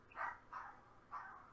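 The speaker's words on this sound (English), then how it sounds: "Sorry if you're hearing my dog, everyone." A pet dog barks faintly somewhere in the background of a home, giving three short, distant yaps in quick succession over a quiet room hum, with no talking.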